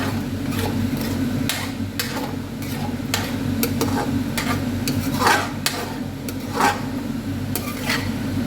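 Food is stirred in a pan with a utensil over a low, steady sizzle. Sharp scrapes and clinks of metal against the pan repeat irregularly and close to the microphone, with no talking.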